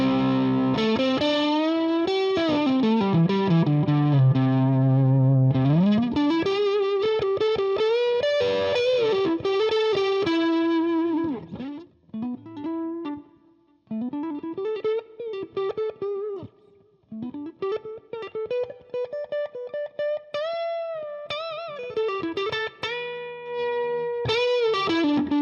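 A Fender American Original 60s Stratocaster on its neck pickup plays sustained bends and melodic lead lines through distortion and chorus effects, loud and up close, with pauses between phrases and no voices.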